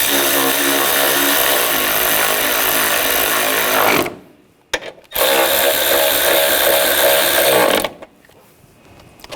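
A power tool runs in two sustained bursts, tightening the bolts on a 2000-2006 BMW X5 3.0L's idle air control valve, loud and close with a brief pause between runs.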